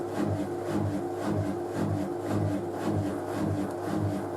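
A Whirlpool washing machine runs its final rinse with a steady low motor drone and a rhythmic swishing churn that pulses about twice a second, close and continuous.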